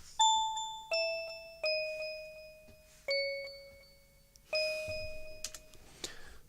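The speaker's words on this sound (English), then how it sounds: "The only thing that would make it more Christmas is the bells." Clear bell tones ring out one after another, five or six bright strikes each fading slowly, like a chime melody.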